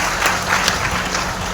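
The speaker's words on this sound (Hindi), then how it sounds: "मैं इनके लिए 14 ताली चाहूँगा सर" An audience applauds a coach at a seminar-style gathering, with steady, dense clapping from a crowd that carries on evenly throughout.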